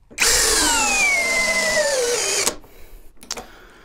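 An Ingco brushless cordless drill runs in a torque test, spinning up with a loud high whine that slowly drops in pitch as it loads, then cuts off abruptly, followed by a couple of brief clicks.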